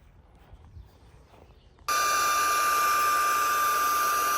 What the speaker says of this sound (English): We're filling it up with our own pump.